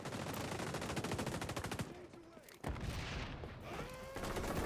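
Rapid bursts of automatic gunfire in the video game XDefiant, close and loud, a fast rattling stream that pauses briefly, then resumes as scattered shots with game sound effects.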